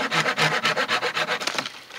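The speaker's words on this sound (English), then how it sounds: "it'll hold it while you're sawing" A hand saw cuts through wood outdoors at a campsite with about nine quick, rhythmic back-and-forth strokes, close and clear, slowing and fading at the end.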